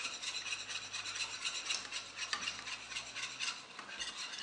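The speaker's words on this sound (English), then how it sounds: "go ahead and give that another stir" Muffin batter with butter, blueberries and milk is stirred in a bowl, giving a close, continuous rhythmic scraping and rubbing with no talking.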